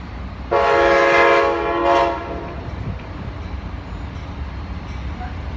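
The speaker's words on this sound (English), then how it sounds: "first train is Amtrak" An Amtrak train sounds its horn loudly and close by, a single sustained blast of about a second and a half, then rumbles past as steady rail noise at a Dania Beach, Florida crossing.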